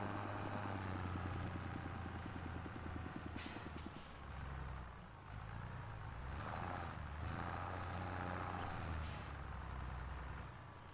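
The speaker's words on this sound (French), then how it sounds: "Ah, j'écrase dans la pédale d'accélérateur." A truck engine in a farming simulation game drones low and steady with a rising mechanical whine and brief hissing bursts, the whole thing faint and distant-sounding with no speech.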